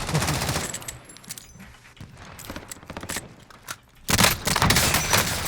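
Rapid, loud gunfire from a .357 revolver loaded with snake shot in the video game Call of Duty: Warzone, with bursts of shots and clattering game effects running back to back with no talk.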